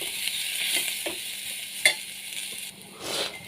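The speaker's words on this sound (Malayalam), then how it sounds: "അതും ചേർത്തിട്ട് നന്നായിട്ട് ഇളക്കി കൊടുക്കാം" A spoon stirs a simple tapioca and chickpea curry in a pot after sambar powder goes in, giving a steady, close scraping and bubbling hiss with a few sharper knocks and no talking.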